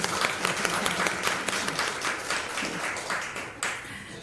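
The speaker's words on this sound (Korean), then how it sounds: "우리 함께 격려와 반가운 환영의 박수 드리도록 하겠습니다" A church congregation claps during a Sunday morning service, welcoming visiting missionaries from Indonesia; dense, steady applause from a roomful of people fills the space throughout, fading slightly toward the end.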